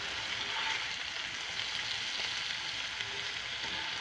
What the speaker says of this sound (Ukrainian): Для того, щоб перемішалися смаки також, я їх ось так ще перемішаю.